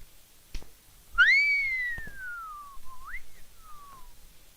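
A person whistles a long rising-then-gliding note that slides downward, followed by a quick upward flick and a fading falling tail, clear and close, with faint knocks before it and no talk.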